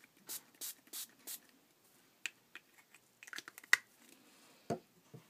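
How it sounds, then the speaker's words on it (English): Tattered Angels ink mist sprays onto cardstock in four short, close hissing bursts in quick succession, followed by quieter scattered handling taps and clicks. "And now I'm going to take some spray."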